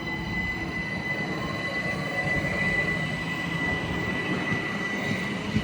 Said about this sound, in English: As 701-059 now departs bound for Woking.